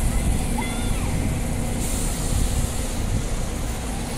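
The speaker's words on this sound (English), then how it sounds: "There's an 829 just departing." A TransBunbury route 829 bus pulls away from a stop with a steady, loud engine rumble and road noise. The sound is continuous and close, with faint talk in the background.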